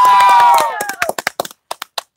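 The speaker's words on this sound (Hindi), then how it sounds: "उसके लिए सादर धन्यवाद और एक जोरदार ताली।" Audience claps at a live music show: a short sung or spoken phrase gives way to a few sharp, separate handclaps that thin out quickly into silence.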